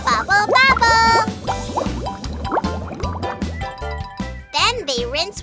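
Cartoon soapy bubbles scrub a car in a children's car wash. Quick bubbly, liquid pops and squelches burst over bright children's music while voices sing and speak throughout.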